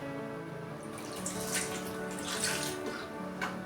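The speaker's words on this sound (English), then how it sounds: "I'm just going to add in some cold water and let it soak for a good 15 to 20 minutes" Cold water runs from a tap over oxtail meat soaking with salt and vinegar in a kitchen, a quiet steady splashing that swells in bursts.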